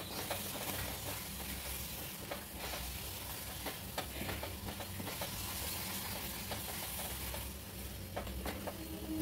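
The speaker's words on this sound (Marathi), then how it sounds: "हे कढईला लवकर लागतं, त्यामुळे सतत हे ढवळत राहावं मिश्रण" A coconut burfi mixture is stirred continuously in a kadhai while it sizzles. The spoon scrapes the pan with a dense, steady hiss and rapid clicks, close and fairly loud, with no talking.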